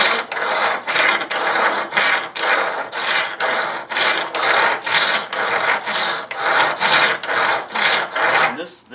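A steel broadhead is drawn back and forth on a KME sharpener, making loud, close, rhythmic rasping strokes roughly twice a second that repeat steadily with short gaps between them.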